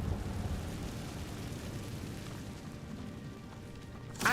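A steady, roaring magical rumble from Accio and Incendio spell casts in Hogwarts Legacy, continuous and dense throughout, swelling into a sharper burst at the very end.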